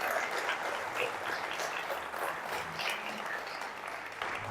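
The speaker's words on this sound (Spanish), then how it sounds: "Aplaudo al Rey por siempre." Applause from a church congregation fills the whole stretch, a dense steady wash of many hands clapping at moderate level with no voices standing out.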